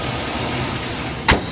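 A 2008 Chevrolet Silverado 2500 crew cab 4WD pickup idles smoothly with a steady, even engine hum, close and moderately loud, broken by a single short click near the end.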